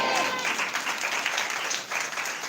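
A Sunday church congregation breaks into loud, sustained applause, dense clapping filling the whole moment without letting up.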